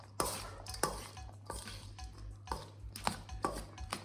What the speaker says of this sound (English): Now we'll put these and stir them in all together.